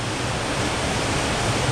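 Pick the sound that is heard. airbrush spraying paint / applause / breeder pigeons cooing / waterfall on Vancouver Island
waterfall on Vancouver Island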